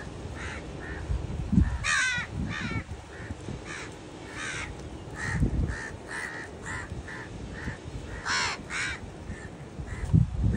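Several crows caw loudly and repeatedly nearby, harsh calls overlapping in irregular bursts over outdoor background noise, with a few thumps underneath.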